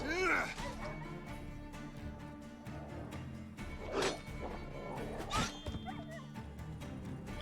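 A dog attacking in the Witcher 3 video game, with repeated short barks and yips over a steady game music bed, with a few sharper hits and snarls scattered throughout at moderate loudness.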